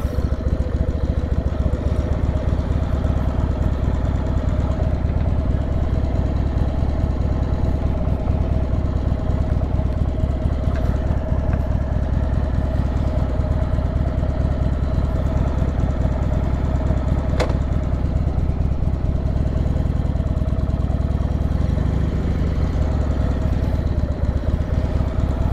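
A motorcycle engine idles steadily and close at a bike night at the Iron Horse Hotel in Milwaukee, a constant low throbbing rumble with a mechanical clatter throughout.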